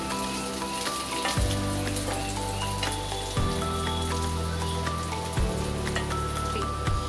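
Stuffed bitter gourds (bharli karli) roast in a pan with a steady, soft sizzle, joined by a low hum that shifts in pitch a few times, with no talking.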